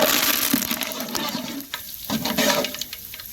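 Curry leaves dropped into hot oil with mustard seeds and urad dal for tomato thokku, a loud rushing splutter and crackle that surges, dips briefly, then flares again.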